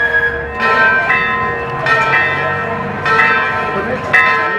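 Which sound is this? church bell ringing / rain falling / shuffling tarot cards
church bell ringing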